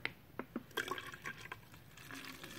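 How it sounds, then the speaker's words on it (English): Water poured for a JFJ Easy Pro disc repair solution made with synthetic wax, a series of short faint splashes and drips at irregular intervals, close and quiet, with no voices. "Before we put that in, we'll go ahead and put in some water"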